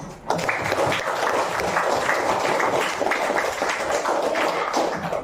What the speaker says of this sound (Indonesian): Oke, tepuk tangan untuk kita.